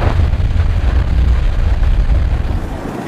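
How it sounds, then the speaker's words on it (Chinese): The Yongning full-face hard-rock tunnel boring machine, built by China Railway Industry and able to climb steep slopes, grinds through rock while boring a water diversion inclined shaft, making a loud, steady, close low roar that never lets up. "这就是盾构机掘进的声音"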